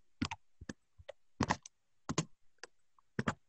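Computer keyboard keys pressed one at a time in an uneven rhythm of sharp, close clicks and taps with short pauses between them, no talking, during setup of a Polaris braille device.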